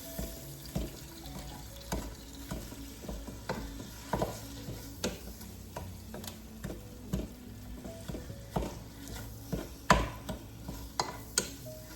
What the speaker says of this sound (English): I'm starting to sizzle there